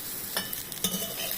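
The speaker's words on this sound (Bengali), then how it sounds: "ভেজে নিচ্ছি সুন্দর করে টেস্টি করার জন্য" Sauce with kasuri methi and nuts frying in a pan, a steady soft sizzle with a few louder scrapes of stirring, close and alone.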